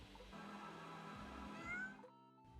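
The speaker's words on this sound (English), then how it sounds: "I feel so bad for the cat, but I mean, it just meow." A cat meows in a scene from Pixar's animated film Soul, a few drawn-out cries set against a background music bed, with no talking.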